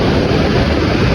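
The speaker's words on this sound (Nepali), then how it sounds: "खोला त ठुलो आएर छ पानी पऱ्यो क्या" Rain-swollen river rushing, a loud broadband roar of water that stays steady and close with no voices.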